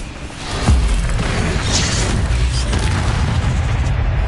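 Fire spell cast in the Hogwarts Legacy video game: a loud booming burst lands early, followed by a sustained roaring, crackling blast of game effects that fills the rest of the moment.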